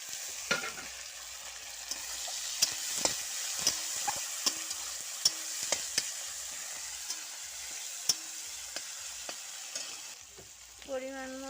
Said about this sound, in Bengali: পেঁয়াজগুলো লাল লাল করে ভেজে আদা রসুন বাটা দিয়ে দেবো।